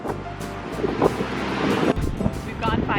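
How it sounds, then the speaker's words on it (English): Strong wind buffets the microphone during a long road trip drive, a continuous rough roar and gusting noise throughout, loud and close. "It's so windy."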